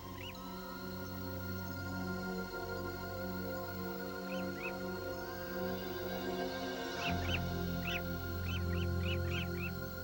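Gulls on the northern tundra give short, high calls, at first singly and then in a rapid run of repeated cries near the end, over a steady low droning background.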